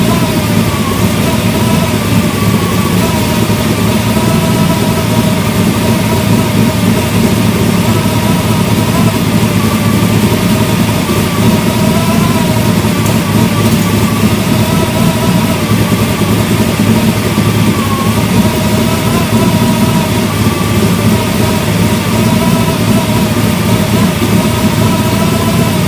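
A steady engine idling at about 800-900 RPM with a cooling system holding it near 190, a loud continuous rumble with an even low throb that never changes, with no talk over it.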